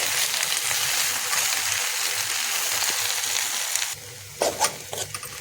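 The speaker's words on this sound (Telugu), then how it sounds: "చిన్నగా కలుపుకోవాలి ఉడుకుతాంటే." Gongura leaves cooking in a pan make a steady bubbling sizzle, then the hiss drops and gentle scraping stirs and clinks of a utensil follow, close and alone.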